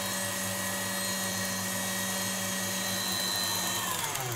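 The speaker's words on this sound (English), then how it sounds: "turn the mixer up to full speed and get it whisking until it's nice and cool" Stand mixer whisking meringue at full speed, a steady close motor whine with a constant pitch that holds alone without pause.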